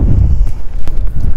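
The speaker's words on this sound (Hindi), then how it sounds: "जबरदस्त हवा चल रही है भाई" Strong wind blows at Zuluk in Sikkim, buffeting the microphone with loud, low, uneven rumbling gusts and a few sharp thumps, with no voices heard.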